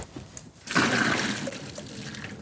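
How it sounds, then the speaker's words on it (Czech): Pre-cooked rice noodles drained of their boiling water for a pho bo soup, a steady close splash and pour of water starting abruptly and continuing to the end, with no talk. "Nudle vycedíme."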